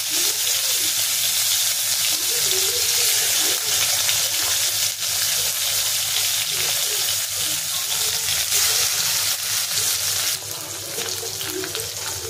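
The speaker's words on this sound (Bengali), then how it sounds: "এখানে শিং মাছ আছে, তো এটা ভেজে নেব। হলুদ নুন দিয়ে মেখে রেখেছি। তেল গরম হয়ে গেছে, এখানে দিয়ে দেব।" Shing fish (stinging catfish), coated in turmeric and salt, fries in hot oil with a loud, steady, close sizzle that crackles throughout without a break.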